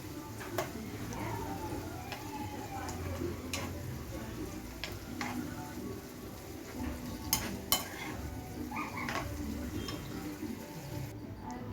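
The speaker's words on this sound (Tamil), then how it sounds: "இப்போ நான் உப்பு ஆட் பண்ணிவிட்டு நல்லா அதை எண்ணெயிலே நல்லா வதங்கி நல்லா வேக விட்டுக்கிறேன்." Onions fry in oil in a pan for Chettinad chicken gravy, giving a steady low sizzle with scattered sharp ticks and a few louder clicks of utensil contact.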